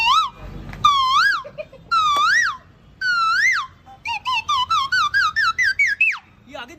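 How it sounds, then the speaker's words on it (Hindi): A koel calls in a run of loud, clear rising whistled notes: a few separate calls first, then a quick series of about ten that speeds up toward the end, with no other sound behind it. "ये आ गई कोयल।"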